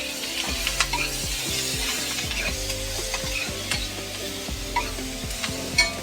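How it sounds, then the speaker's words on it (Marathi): Onion sizzles steadily in a hot pan while being cooked for a bitter gourd dish, with repeated scraping stirs of a spoon against the pan and a few small clinks, close and continuous, with no talking. "कांदा पण चांगला भाजायला द्यायचा एकदम नरम होईपर्यंत."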